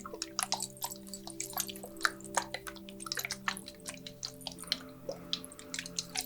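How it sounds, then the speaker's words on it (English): A spray bottle of moon water spritzes in a quiet room, a rapid series of short close hissing puffs with soft drips and squishes over a faint steady tone. "So I'm going to start just by spraying this in your aura."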